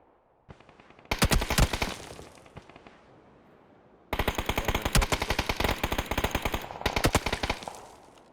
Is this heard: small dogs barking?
no